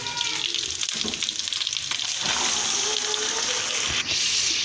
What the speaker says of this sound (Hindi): अभी हम इसमें डायरेक्ट डाल देंगे चिकन जो पहले मैरिनेट करके रखा हुआ था।